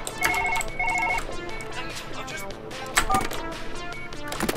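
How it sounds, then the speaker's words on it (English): A phone rings in the video game Surgeon Simulator, bright repeated electronic ring tones in short bursts, joined by clattering clicks and knocks from the operating table. "the phone is ringing"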